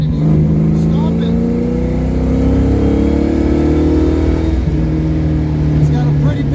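A carbureted car engine revs and holds steady after a choke repair, a loud, close droning hum that rises and settles in pitch across the span, with a brief dip and recovery partway through.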